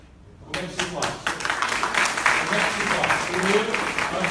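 Audience applause in a lecture hall at a law faculty, a dense patter of many hands that swells after a quiet start and keeps going steadily and fairly close for several seconds.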